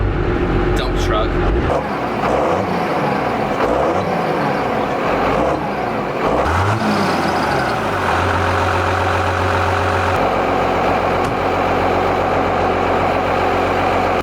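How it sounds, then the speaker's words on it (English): Loud custom-built truck engine, likened to a dump truck, idling and rumbling close inside the cab as a steady low drone with shifting tones, talk running over it throughout. "I don't know how well you'll be able to hear me because this truck's loud"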